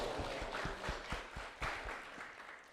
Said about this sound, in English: let us give a big round of applause to Prabhuji for a wonderful class